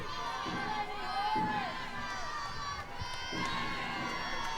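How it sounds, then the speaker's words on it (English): A sold-out crowd of Texas and LSU fans at a college softball game in Austin cheers and shouts in a broad, rolling roar, with a commentator talking over it. "Sold out crowd, a good number of Tiger fans made their way to Austin."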